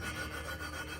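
Engine valves are lapped with lapping compound, giving a continuous close gritty rubbing and grinding, steady and unbroken with no voices.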